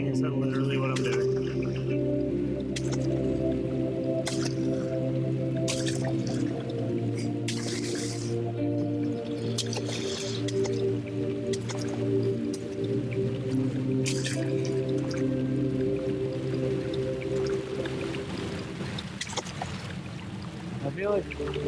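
Repeated splashing and dripping at a fountain in Amnesia: The Dark Descent, with short watery bursts scattered through the clip over a constant low hum of game background.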